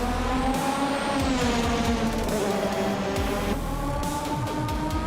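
Several race cars roar past one after another in a racing video game, engines revving up and down in sweeping pitch changes against steady engine drone, with no talking.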